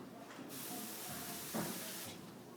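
A close, loud hiss of water spraying onto a dishwasher screen runs almost continuously, with a brief louder burst partway through.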